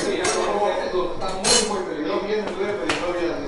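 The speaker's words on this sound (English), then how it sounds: "I'll do the dishes" Dishes being washed in a family home kitchen, with plates, pots and cutlery clinking and clattering in irregular bursts while people talk nearby.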